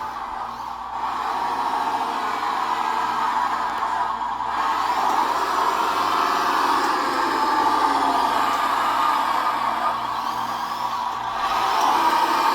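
A 1/14-scale Tamiya Grand Hauler Peterbilt RC dump truck runs in second gear indoors, its electric motor and gearbox giving a steady, close whirring drone with a faint rhythmic pulsing underneath, and no voices.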